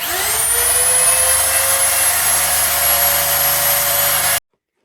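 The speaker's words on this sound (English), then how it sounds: "actually found a drilling machine" An electric drill spins up to a high, steady whine and runs continuously at close range while restoring a Hardinge HTC lathe, then cuts off abruptly near the end.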